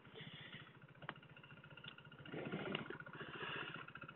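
A KTM 390 Duke motorcycle turns around at low speed in first gear, its engine putting along steadily at a low, uneven burble and growing a little louder partway through.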